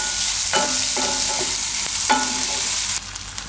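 Onion frying in a pan while being stirred: a loud, steady sizzle with several sharp spoon scrapes and knocks against the pan, close up and with no talking.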